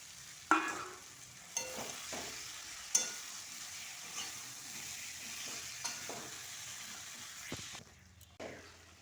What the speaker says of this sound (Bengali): আলুগুলো দেওয়ার পর সুন্দরভাবে কষবো।